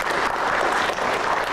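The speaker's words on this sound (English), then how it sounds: "So give them a round of applause." An audience at a civic coding hackathon bursts into a round of applause, a loud, dense, continuous wash of clapping throughout.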